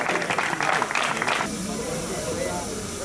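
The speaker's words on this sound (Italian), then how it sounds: "Un applauso e una foto" Clapping from the crowd at the award ceremony of the Gran Fondo Valle dell'Alesa 2017 cycling race in Pettineo. It rings out briefly, then stops after about a second and a half, leaving a faint hiss of room noise.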